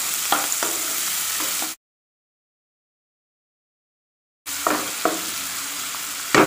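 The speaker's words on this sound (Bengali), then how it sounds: "দুটো পেঁয়াজ আমি কুচিয়ে নিয়েছি, এটা আমি দিয়ে দেব। এটা একটু ভেজে নেব হালকা করে।" Two chopped onions fry lightly in oil in a pan. A steady, close sizzle with a few stirring knocks is broken by a few seconds of complete silence, then resumes.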